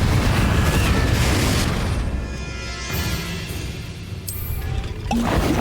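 Fiery Confringo spell blasts in Hogwarts Legacy during a fight with Inferi: a sustained loud rumbling burst of explosive noise that eases off midway, then flares up again near the end.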